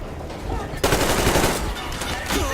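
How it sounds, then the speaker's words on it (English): Automatic gunfire in Metro Exodus, played on Ranger Hardcore, breaks out after a quieter opening and keeps up as a dense, loud burst of rapid shots for the rest of the moment. "there's someone else shooting at me"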